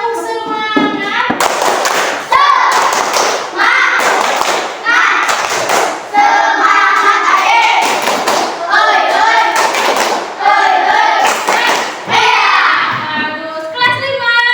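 Primary school class standing and doing a rhythmic spirit clap in unison, loud sharp bursts of synchronized clapping in patterned groups, interleaved with children chanting along between the claps.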